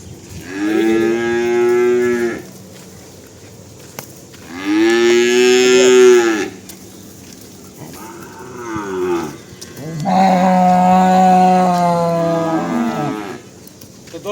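Cattle on a dairy farm moo in four long, loud, drawn-out calls separated by short pauses, with no one speaking.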